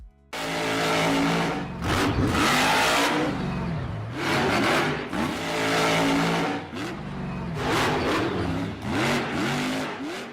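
Monster truck engines rev hard in surging, roaring bursts, loud and close, rising and falling in pitch with brief dips between throttle blasts and no talk.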